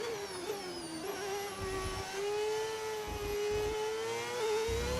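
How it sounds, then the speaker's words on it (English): A Porsche Formula 1 car engine in the racing game F1 25 drones at high revs, a strong whining tone that dips and climbs slightly as the car runs on, continuous and fairly loud. "This engine doesn't sound like an F1 engine. I know it is, but it sounds more like a supercar engine."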